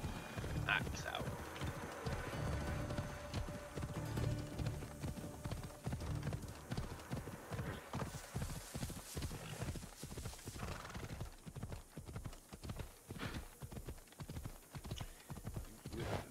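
Steady rhythmic hoofbeats clip-clop for the whole stretch, loud and close, with a brief horse whinny near the start and a busy Assassin's Creed Odyssey game soundscape underneath.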